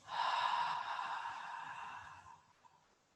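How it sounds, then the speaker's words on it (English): A long breath is exhaled through the mouth during a beginner yoga flow. It is one soft, close, airy exhale lasting about two and a half seconds and fading at the end. "and breathing out of our mouths."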